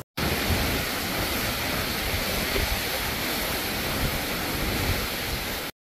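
Sea waves and wind on the Ilha do Mel coast form a loud, steady, unbroken roar that starts and stops abruptly.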